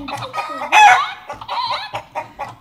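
A toy farm chicken sounds a loud, close electronic clucking and crowing call in short bursts, with brief pauses and other bits of sound between them.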